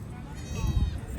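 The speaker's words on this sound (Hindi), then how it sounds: "ये बकरी है, 2 बच्चे हैं, एक नर एक मादी।" A goat bleats nearby in a short, wavering cry, heard at a livestock market in Lahore.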